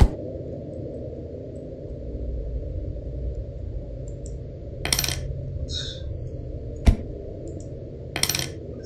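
Coins clink and drop in the video game Ikai, a few brief metallic chimes and sharp ticks over a steady low background hum.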